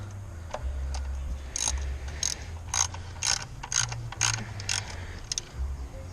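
Ratchet wrench clicking as ignition coil bolts are tightened on a 2012 Nissan Versa engine, a series of short, crisp ratcheting bursts close by, repeated at a steady rhythm over a low background hum.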